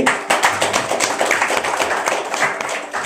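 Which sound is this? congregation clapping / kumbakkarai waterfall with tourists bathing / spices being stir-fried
congregation clapping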